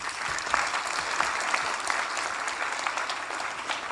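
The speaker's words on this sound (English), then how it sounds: "Let's give her a round of applause." Audience applause at a gathering honouring Karpal Singh, steady dense clapping filling the whole stretch at moderate loudness with no speech over it.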